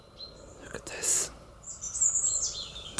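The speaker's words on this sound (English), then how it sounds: "Oh, birds flying around." Small birds chirp and tweet outdoors in a garden, a few bright high calls scattered over a quiet background, moderately close and with no speech.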